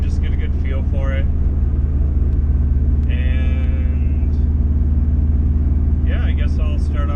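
A Subaru Forester XT with a custom mid-mount intercooler drives along, its engine a steady loud rumble from inside the cabin, with someone talking over it at intervals.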